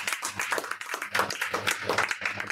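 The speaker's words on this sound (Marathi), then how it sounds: "त्याचं बरोबर आलंय. त्यासाठी टाळ्या वाजवा." A classroom of students clapping together, a dense, steady patter of many hands sustained for a few seconds at moderate volume.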